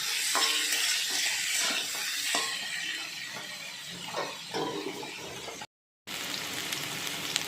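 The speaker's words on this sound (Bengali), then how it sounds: "এই কচুর লতিটা ওই তেলের উপরে দিয়ে দিলাম দিয়ে ভালো করে একটু নেড়ে নিচ্ছি" Taro stolons are stirred in hot oil in a pan with potatoes already frying, giving a steady sizzle with scraping stirs throughout and a brief silent gap near the end.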